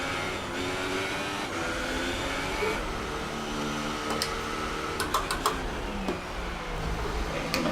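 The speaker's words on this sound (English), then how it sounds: "I'm hearing a little rattle in the engine" Race car in F1 2018 with a developing engine fault, a steady high-revving engine whine with a faint rattle, joined late by several sharp ticking clicks over the continuous drone.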